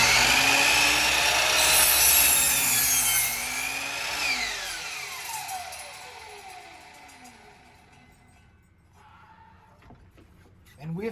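A miter saw cuts through scrap wood with a loud, harsh roar that lasts a few seconds, then the blade's whine slides downward as it spins to a stop.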